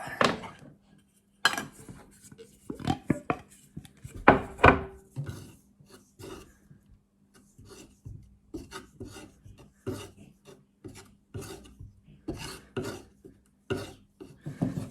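Two-pack body filler being mixed on a board for a K9 model restoration, heard as repeated close scraping and rasping strokes of a spreader in an uneven rhythm, quiet and without talk.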